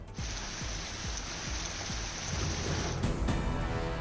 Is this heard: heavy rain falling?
yes